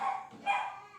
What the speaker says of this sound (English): You can probably hear my dog right now as well,